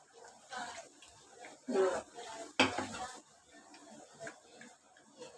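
Gram flour batter for cabbage pakoda is stirred by hand in a bowl, giving soft intermittent sloshing and scraping with a sharp clink of a utensil, fairly quiet and close.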